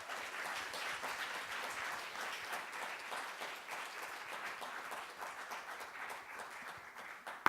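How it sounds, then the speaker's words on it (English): A conference audience applauds the Actors Society with steady, fairly faint clapping from many hands that carries on throughout. "So a loud applause for the Actors Society."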